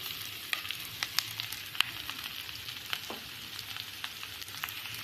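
Potatoes frying in a pan for spiced masala potatoes give a continuous, fairly quiet sizzle with scattered small pops and crackles throughout, with no voices.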